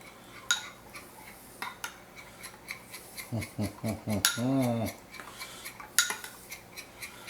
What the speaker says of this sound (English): Go in with my Sriracha. There we go, about a tablespoon. Give this a stir.